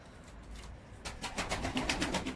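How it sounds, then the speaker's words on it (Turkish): Young pigeons cooing and rustling in a rooftop loft, soft murmuring at first, then denser, repeated coos and fluttering close by, moderately loud with no talk. "yavru kuşları, uçurduğu kuşları burada"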